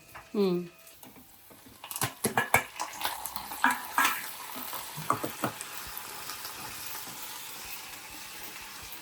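Cumin and onions sizzle as they hit hot oil for a tempering, with a burst of crackling frying, stirring clinks and scraping of the pan, and someone speaking briefly at the start.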